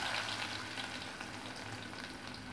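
Sliced small shallots frying in hot oil with popped mustard seeds and dal for a Tamil drumstick curry, a dense continuous sizzle heard close and steady throughout, with no voices.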